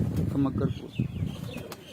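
Pigeon wings flap in quick bursts close by, while someone talks over the flutter.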